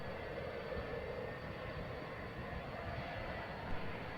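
A departing aircraft rolls down a runway, heard from the airport as a faint, steady engine drone with a low rumble and no talk.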